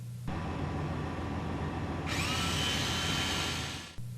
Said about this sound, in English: Drill both mounting plate and wire harness center holes with the mat in place.